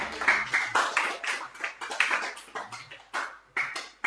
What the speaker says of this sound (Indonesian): Kita beri aplaus yang meriah, tepuk tangan.